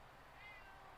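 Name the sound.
person imitating a cat meowing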